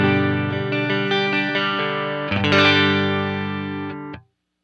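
An electric guitar played through a NUX Cerberus multi-effects pedal into a clean amp has a tight, slightly dirty tone: a chord rings out, a second strum follows midway, then the sound is abruptly muted near the end.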